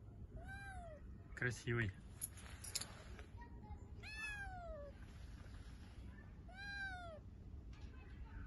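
A cat meows three times in long drawn-out wails spaced a couple of seconds apart, clear and fairly close, with a brief burst of handling noise and a person speaking.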